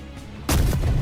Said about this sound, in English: out of nowhere I heard gunshot, and then he started shooting me